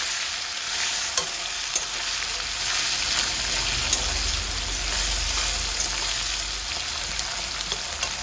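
Chopped onions fry in oil for a chicken curry, making a loud, steady, close sizzle with a constant stirring rustle and no voices.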